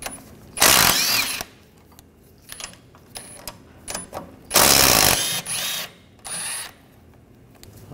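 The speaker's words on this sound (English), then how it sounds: "Using a E12 socket, take these two bolts out." Ratchet with an E12 socket working loose the shock mount bolts on a 2009-2013 BMW 328i, heard as two loud bursts of rapid clicking with shorter ratcheting spurts between, close by and with no talking.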